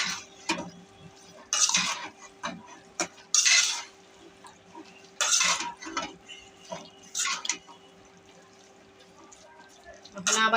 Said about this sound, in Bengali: এখন নাড়া দেব।